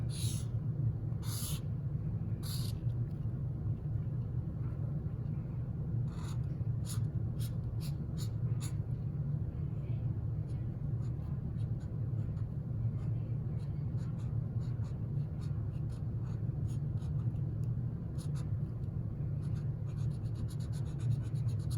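A pen draws snowflakes on paper, making quick scratchy strokes in short, irregular bursts over a steady low background hum.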